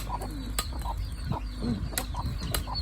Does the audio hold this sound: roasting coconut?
no